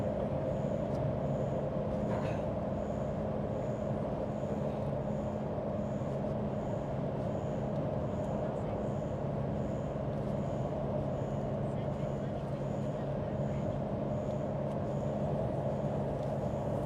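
Semi-trailer truck overtaking on a 110 km/h highway, a steady low road and engine rumble heard from inside a car with a faint periodic ticking, fairly quiet and continuous throughout.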